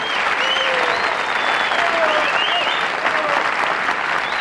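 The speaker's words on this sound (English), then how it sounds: "I'm humbled by that applause" Sustained studio audience applause on a late-1970s television talk show, a dense, steady wash of many hands clapping at even loudness throughout, with faint voices calling out beneath it.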